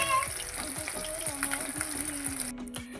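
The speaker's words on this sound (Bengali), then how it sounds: "মাছটা ভাজা হচ্ছে।" Fish sizzling steadily in a hot pan of oil, a soft continuous crackle and hiss with faint clinks, heard close and fairly quiet with no talking.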